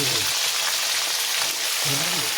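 Vegetables hitting a hot pan already sizzling with onion, garlic, ginger and tomato, a loud steady frying hiss that fills the whole clip, with faint voice tones underneath.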